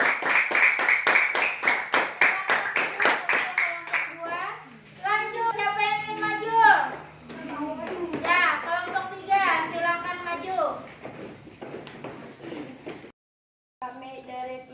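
A classroom of children claps together for a student group, dense rhythmic clapping for a few seconds, then children's voices talk and chatter.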